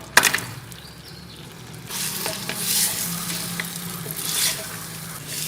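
Marinated beef for Irani korma fries in melted butter and desi ghee, a loud close sizzle with a spoon clacking and stirring through it. The sizzle swells after a sharp opening knock.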